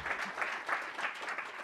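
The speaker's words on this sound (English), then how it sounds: "Let's give a round of applause for our awesome speakers." Audience applause for speakers wrapping up a session at a mobile tech conference, a soft, steady patter of many hands clapping at a distance, fairly quiet and continuous throughout.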